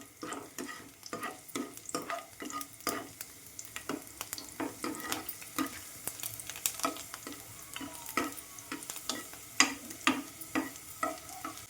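Garlic frying in hot oil for vegetable Maggi noodles, a steady close sizzle broken by frequent sharp scraping strokes of stirring, with no voices.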